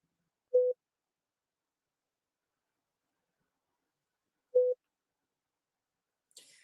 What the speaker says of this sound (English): So the beep you hear is when they do a sidebar